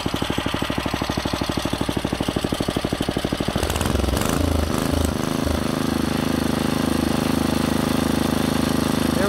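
A Clinton B1290 small engine idles with a close, rapid, even chuffing pulse, then is throttled up around the midpoint into a louder, smoother, higher-pitched steady roar that holds to the end.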